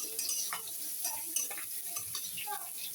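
Pangas fish and greens fry in a pan with a quiet sizzle, broken by irregular scraping and tapping of a utensil against the pan.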